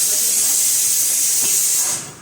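Tempering sizzling in hot oil for Gujarati kadhi, a loud bright hiss of steam that holds steady and then fades away at the end.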